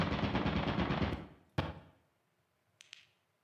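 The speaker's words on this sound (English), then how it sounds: "Oh, that's a turret." An automated turret in Lethal Company fires a fast, loud stream of gunshots, then cuts off. A sharp single crack follows, and a faint metallic clink comes after a brief quiet.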